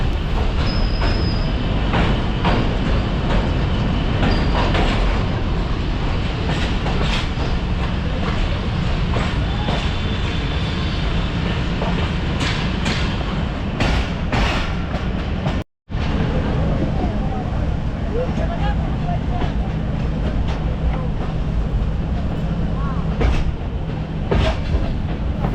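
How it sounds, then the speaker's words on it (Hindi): Tezgam Express passenger train (8DN) rolling slowly into Lahore railway station, a steady loud rumble and rattle of wheels and carriages with rhythmic clacking over the rails, continuous throughout apart from one very brief dropout. "Aahista Aahista train Lahore railway station की जानिब बढ़ रही है"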